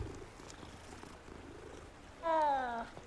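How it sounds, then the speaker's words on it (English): A cat purrs in the Hogwarts Legacy video game as it is petted, a soft, steady rumble that ends with a brief, louder tonal cry. "Ooh, gotta pet the cat."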